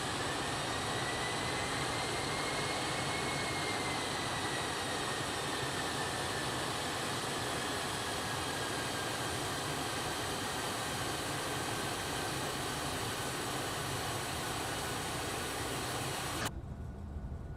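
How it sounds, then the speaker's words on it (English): A continuous CL650 jet engine roar in the X-Plane 12 flight simulator, with a high whine drifting in pitch, holding steady for a long stretch before cutting off abruptly near the end. "Listen to the engine sounds."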